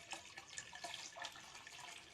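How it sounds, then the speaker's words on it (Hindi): Water runs steadily into a cooking pot for a couple of seconds, a continuous splashing pour with a bright, hissy texture and no voices. "अब इसमें मज़ीद 2 गिलास और मैं पानी के ऐड करूँगी"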